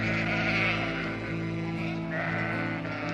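A flock of sheep bleats repeatedly in a woodland understory pasture, the calls loud and overlapping continuously with no pauses.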